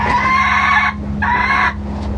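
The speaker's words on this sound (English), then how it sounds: "So just kind of waiting for him to crow." A rooster wearing a crow collar crows twice in close succession, loud and near, each call a strained, muffled cry over a low steady hum.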